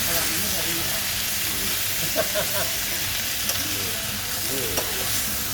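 Loud, continuous sizzling from cabbage being stir-fried in a hot wok with fish sauce poured around the rim, with scraping stirs and a person talking faintly over the hiss.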